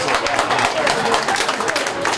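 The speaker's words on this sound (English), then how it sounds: "Let's give Bill Wadsworth a round of applause." An audience at a community event gives Bill Wadsworth a round of applause, a full, continuous wash of many hands clapping close and loud for a couple of seconds.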